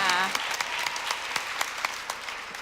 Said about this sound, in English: let's give that young lady another round of applause.